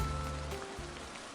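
Rain falls steadily in the visual-novel game Sound of Drop - fall into poison, a dense, even patter of drops with a faint low hum beneath it.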